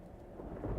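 A storm in the video game Life is Strange Double Exposure gives a low, soft rumble of thunder that swells slightly toward the end, with a hiss like rain beneath it and no voices.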